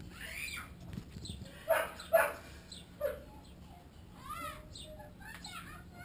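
Neighbouring dogs give a few sharp barks, loudest in a cluster around the middle and heard from some distance, set against quieter yelps and faint background voices in an outdoor setting.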